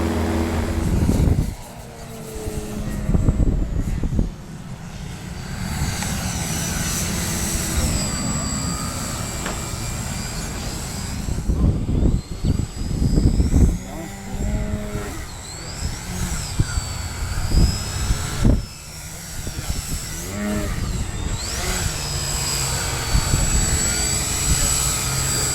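An Addiction X/XL RC airplane flies and maneuvers overhead, its electric motor and propeller whining and shifting in pitch as it banks and dives, swelling and fading with distance. Someone talks over parts of it.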